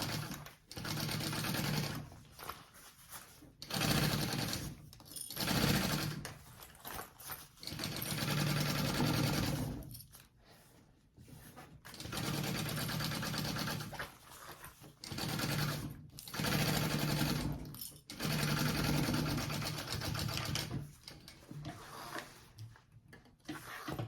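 A sewing machine basts the lining of a mini backpack in repeated bursts of rapid stitching, each run several seconds long and separated by short pauses, heard close and fairly quiet.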